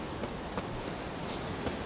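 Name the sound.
wind in the video game The Witcher 3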